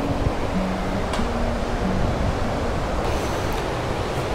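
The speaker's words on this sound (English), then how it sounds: "I'm just out here on the ocean" Ocean waves and surf at a beach roll as a loud, steady wash of broadband noise with a faint breezy hiss, and no voices.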